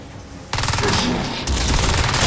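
Sustained bursts of automatic gunfire in the shooter game Crysis 2, loud and dense, starting suddenly and intensifying midway with rapid overlapping shots and no talking.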